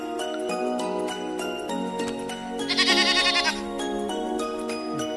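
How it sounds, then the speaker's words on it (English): A single sheep gives a wavering bleat midway through a light, tinkling tune. "White sheep."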